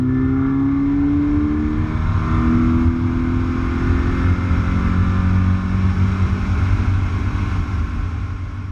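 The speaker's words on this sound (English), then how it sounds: "Pure unfiltered induction noise, which is a lot of fun" Scion FR-S engine fitted with a K&N Typhoon intake, revving with steady, loud induction noise and rising and falling engine pitch throughout, no talking.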